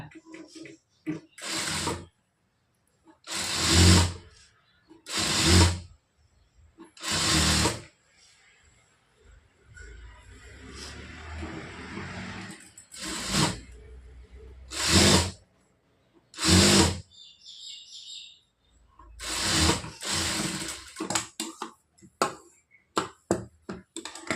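A sewing machine stitches a folded blouse seam with a long stitch length, running in roughly nine short, sharp bursts scattered through quieter stretches of fabric handling.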